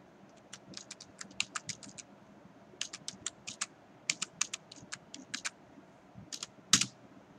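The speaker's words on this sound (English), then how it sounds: "just type in EarthExplorer." Quiet computer-keyboard typing in short irregular bursts of crisp clicks, close and fairly soft, with no voice heard.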